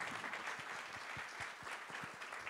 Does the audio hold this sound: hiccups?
no